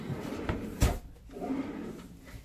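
Cabin drawers aboard the Harmony of the Seas cruise ship slide open and shut, with a few wooden knocks and scraping rolls close by.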